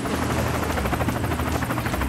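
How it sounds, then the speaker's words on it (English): A helicopter in the video game The Escapists 2 gives a loud, steady rotor chop with a dense buzzing whir, heard up close and continuously with no talking. "And escape via helicopter."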